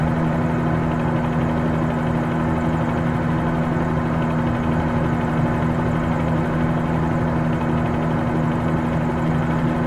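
A helicopter flying at 800 feet toward Key West in Microsoft Flight Simulator 2020, a steady rotor and engine drone with a constant low hum, loud and unbroken with no talking.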